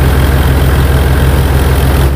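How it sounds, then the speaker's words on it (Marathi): A tractor engine at about 1400–1500 RPM, driving a Reinforce P-535 thresher threshing urad, runs loudly and steadily close by, a deep throbbing hum with no change in pitch. "14-15 के RPM पे ट्रॅक्टर चल रहा है अभी।"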